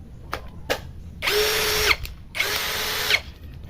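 A cheap generic brushless cordless drill whirs loudly in two bursts of steady motor whine of about half a second each, with a few faint clicks before them.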